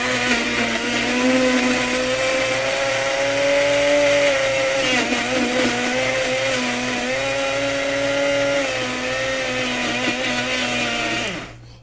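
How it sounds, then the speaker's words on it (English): A personal blender whirs loudly and continuously at close range as it purees sofrito ingredients with olive oil, its motor pitch wavering as the load shifts, then cutting off abruptly near the end. "I'm using this personal blender. All I'm going to be doing is going to be of course blending this"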